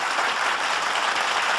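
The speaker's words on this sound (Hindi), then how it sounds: "एक बार जोरदार तालियां बजाकर बताइए आप" Dense, loud applause from a poetry mushaira audience in Dubai, a continuous wash of clapping filling the whole short stretch with no break.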